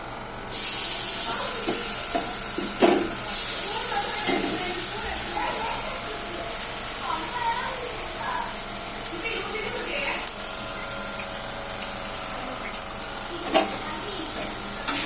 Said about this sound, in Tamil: தக்காளி வெங்காயம் கட் பண்ணி வச்சதை நம்ம அதே மாதிரி தோசை கல்லில் ஃப்ரை பண்ணணும்